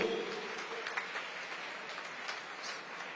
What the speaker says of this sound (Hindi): तालियां बजाइए बहुत जोर से